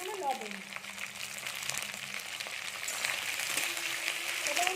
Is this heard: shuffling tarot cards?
no